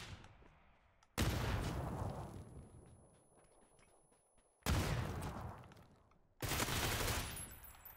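Gunfire in the console battle royale PUBG: three sharp, loud bursts of shots, each cracking in suddenly and then fading into a ringing tail, with quiet gaps between them.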